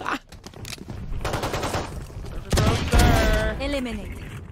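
Rapid weapon fire in the shooter game Valorant, a few quick bursts of shots popping close over game effects, with a player talking over the action.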